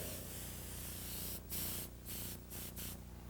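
An airbrush sprays paint onto a portrait in a continuous broad hiss, cut by a few brief pauses as the trigger is released and pressed again.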